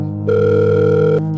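A telephone tone sounds steadily for about a second as a call home is dialled, a sustained electronic hum with a clear pitch, loud and close.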